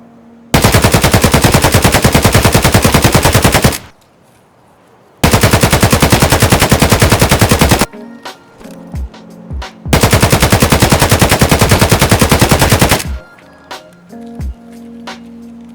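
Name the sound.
AKM rifle firing in video game Escape From Tarkov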